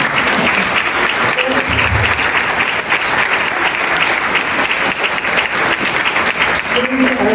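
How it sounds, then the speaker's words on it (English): Loud, dense applause fills an awards banquet hall as volunteers from Sequoia National Park stand to be recognised, continuous clapping with faint voices mixed underneath. "Would you stand up and take some applause"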